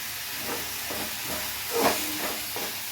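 Chicken fries in a pan with a steady hissing sizzle close by. Soft stirring pulses recur, and one slightly louder swell comes midway. No one speaks.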